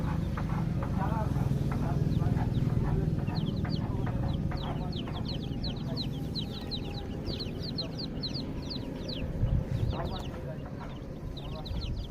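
Hens clucking, a mix of layer hens and Pakistani-breed birds, with repeated short calls and chatter from several birds close by over steady background noise, and people talking throughout.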